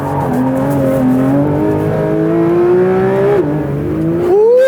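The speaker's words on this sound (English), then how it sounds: "GT3 makes all the right noises, doesn't it?" A Porsche 992 911 GT3 with its 4-litre flat-six howls loudly on track, rising in pitch through the revs, dipping briefly at a shift, then climbing again, near and alone.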